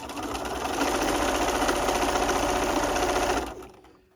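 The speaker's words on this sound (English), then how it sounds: "I'm just going to sew it along" A domestic sewing machine runs steadily through a gathered seam on a garment, a continuous rapid mechanical whirr and needle chatter for about three and a half seconds before slowing to a stop.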